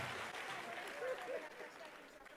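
A crowd applauding and cheering for Jesus at a church gathering, a steady wash of clapping with a few raised voices, moderately distant and fading slightly toward the end.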